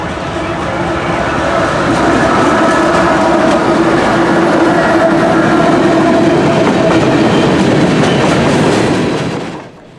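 A CSX freight train of grain cars, E30111, rolls through the turn at Stevenson heading north, a loud, steady rumble with wheel clatter that holds for about nine seconds and then cuts off abruptly.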